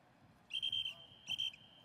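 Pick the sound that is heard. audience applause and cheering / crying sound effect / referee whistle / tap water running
referee whistle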